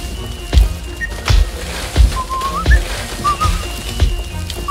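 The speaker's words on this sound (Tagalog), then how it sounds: "Paano niya nagagawang sumipol pa?" Short bird-like whistled notes, a few rising chirps, over a steady background with rhythmic low thumps.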